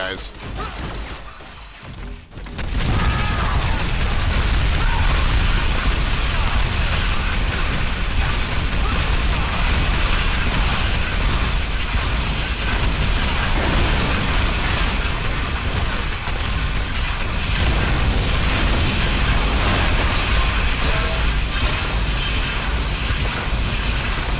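Missile launcher explosions in Shadow Complex Remastered make a dense, loud, continuous roar of blasts and rumbling impacts that fills the scene for over twenty seconds, with a voice talking over it.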